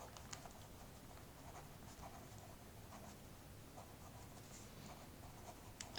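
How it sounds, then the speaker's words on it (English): A pen or pencil faintly scratches and taps across paper while accounting entries are written down, in a soft, irregular patter of short strokes with no talking. "So let me write down that one."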